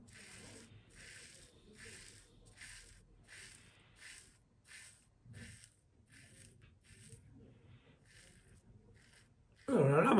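A Henson Razor AL13 safety razor with a mild head scrapes across stubble in about a dozen short, rhythmic rasping strokes, close and quiet, ending in a louder rustle.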